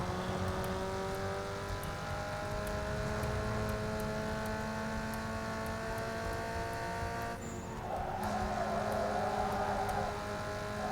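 A car in Need for Speed Underground 2 drifts and skids, its engine whining through rising gear tones while tires squeal in a long drawn-out slide near the end, loud and continuous.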